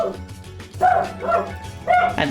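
Two dogs bark indoors in a few loud, close bursts that come one after another at an uneven pace, with a higher yip at the end.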